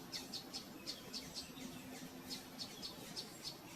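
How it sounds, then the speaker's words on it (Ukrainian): A woodpecker calls with a steady run of short, sharp, high chirps repeated several times a second. The chirps stay fairly faint against a soft outdoor background, with no talk. "Це дятел."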